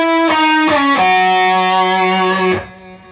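A lightly distorted electric guitar plays a short melodic phrase, a few sustained, sliding notes that ring close and clear before fading out, with no talking.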